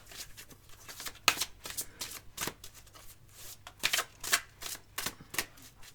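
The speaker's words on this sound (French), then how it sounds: "J'ai oublié de tirer la carte de la réponse angélique." An angel oracle card deck is handled and a card is drawn, with a quick series of close, crisp shuffling riffles and soft flicks of card stock in uneven bursts.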